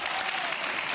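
Studio audience applause on a Polish television talk show, a steady dense wash of clapping filling the whole moment at moderate loudness.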